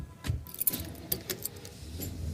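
A family climbs into a car: keys jangle and sharp clicks and clunks of doors and handles sound close by, with faint low rumble underneath.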